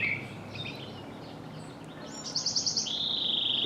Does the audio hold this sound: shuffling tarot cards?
no